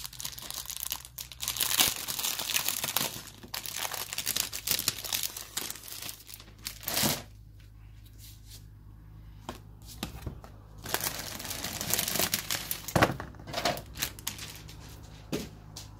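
A plastic bag holding Kill Team cards and a booklet, part of a Warhammer 40k Kill Team unboxing, is torn and crinkled open by hand, with bursts of close crackling and rustling that pause and restart.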